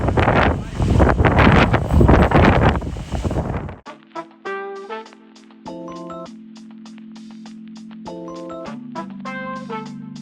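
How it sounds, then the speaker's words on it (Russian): Strong wind gusting at night around a tent on a river expedition, roaring loudly for the first few seconds before cutting to calm, sparse tonal sounds. "Ночь была ветреной, но благодаря автономке в палатке была комфортная температура."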